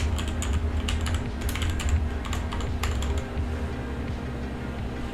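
Rapid, steady typing on a computer keyboard while entering Arduino code, close and clear, with dense clusters of key clicks running continuously.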